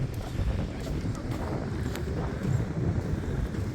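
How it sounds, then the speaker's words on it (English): Strong wind buffets the microphone at the Bay of Roses in Spain, a steady low rumbling roar with gusty surges that runs the whole time, loud and close, with faint water or boat sounds beneath. "The wind picked up very nicely as we got here."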